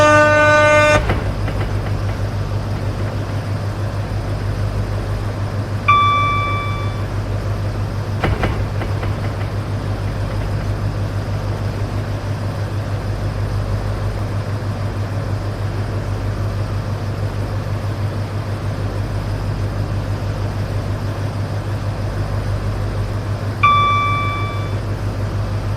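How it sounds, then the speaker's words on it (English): A Class 43 locomotive runs through a station without stopping, carrying a steady low engine drone throughout. Two short multi-tone horn blasts sound, one early and one near the end. "train now approaching platform 1 does not stop here"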